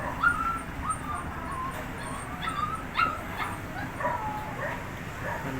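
A pet dog barks and whimpers in short yips at close range outdoors, with bird calls in the background.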